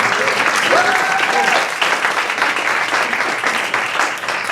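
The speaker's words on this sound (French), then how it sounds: "je vous demande d'applaudir s'il vous plaît" A room full of people at a launch evening for an organisation at Climate House claps together in dense, steady applause. The sound holds loud and even across the whole stretch, with a short whoop rising out of the crowd near the start.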